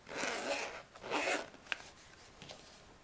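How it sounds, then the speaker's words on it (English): A clothing zipper is pulled in two quick, rasping strokes close by, followed by a few faint clicks and ticks of handling in an otherwise quiet room. "This is a zipper."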